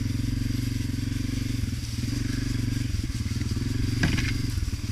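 A Honda CRF250F dirt bike engine runs steadily and close for the whole stretch, a continuous throbbing drone with a slight rise near the end.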